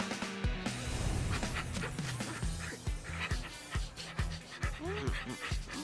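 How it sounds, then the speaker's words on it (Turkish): A cartoon dog yips, barks and pants in quick bursts while characters talk over it in a children's animated show, close and lively with whimpers mixed in. "Hadi Kaptan Cobbly Bubbles köpek olarak neler yapabileceğini onlara gösterelim"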